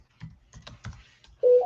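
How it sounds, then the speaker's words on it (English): A tablet gives several quick soft tapping clicks, then a loud electronic beep tone that rises to a second higher pitch at the end. "Why is my tablet making the noise?"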